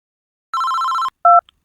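Telephone ringing as a horror-story sound effect: one sustained electronic ring tone followed by a short, louder second chirp, clean against silence.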